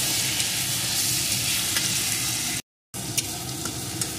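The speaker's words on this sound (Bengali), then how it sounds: "এটাকে একটু ভেজে নেব যতক্ষণ না এর কাঁচা গন্ধটা দূর হয়ে যায়" Onion and garlic paste frying in a pan gives a continuous close, crackling sizzle, broken by a brief silent gap partway through before the sizzling resumes with a few light clicks.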